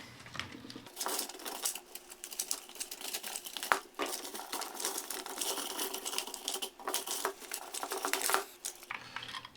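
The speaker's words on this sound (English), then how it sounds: "And then I'm just gonna pull my wheels off." Wheels are pulled off the lower body of a worn Hayward Poolvergnuegen four-wheel pool vacuum, giving a steady, close stream of plastic clicking, crinkling and rattling that runs nearly continuously, with a few sharper snaps and no voice.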